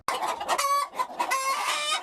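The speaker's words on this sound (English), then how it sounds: "You can still see the damn things clucking on the conveyor belt." Chickens cluck loudly and close on a conveyor belt, a quick burst of overlapping squawks and clucks with no talking.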